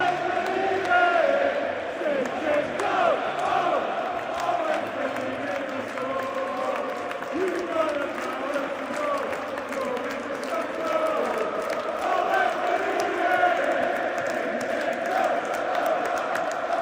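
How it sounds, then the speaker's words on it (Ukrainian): Arsenal supporters in the stands chant a song for Oleksandr Zinchenko, a dense, sustained wall of crowd singing with a steady roar and scattered applause throughout. "вболівальники Арсенала виконали пісню, присвячену Зінченку"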